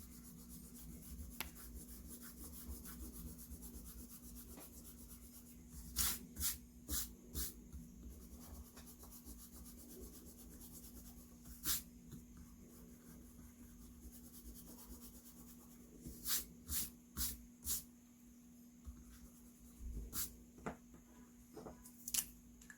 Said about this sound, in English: with my thinner Sharpie, after I erase this, I can add some of the wood detail